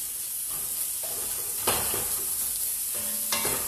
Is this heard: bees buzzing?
no